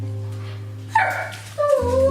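A dog at home gives a couple of short, close barks and yips over a steady low hum, one sharp bark followed shortly by a higher whining yip.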